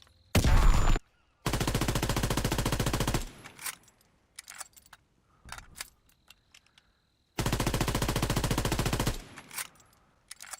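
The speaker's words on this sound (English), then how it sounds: "take a look at the fire rate with and without rapid fire" Rapid-fire bursts from an M1941 Johnson rifle with the rapid fire attachment in Call of Duty WWII, two long dense strings of shots separated by a short single volley and scattered quieter clicks and clatter, loud and close.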